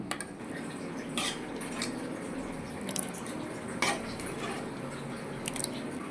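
Butterscotch milk mixture is poured into a container in a kitchen, soft liquid splashes and drips with a few brief clinks against a steady hum, and no one speaks.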